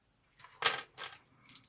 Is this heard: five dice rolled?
yes